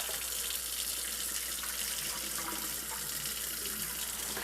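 Water running from a kitchen tap into a bowl of sushi rice being rinsed, a steady, close, continuous splashing hiss with faint sloshing and no voices.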